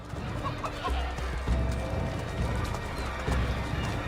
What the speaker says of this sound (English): Chickens, animals as part of the crowd in the city is also a new feature.